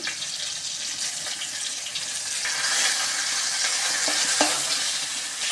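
Chicken pieces fry in a little oil in a pan with a dense, steady sizzle that swells slightly louder partway through, close and uninterrupted, with no talking.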